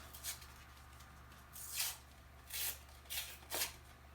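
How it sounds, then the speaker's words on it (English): A paper cup of frozen ice having its top torn off, a handful of short, close crackling rips of paper spaced out over a few seconds against a quiet room hum. "You tear the top off of it like this."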